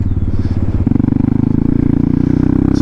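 A Yamaha MT-07 motorcycle engine idles while warming up, a close, steady rhythmic thrum that steps into a faster, lumpier pulse partway through.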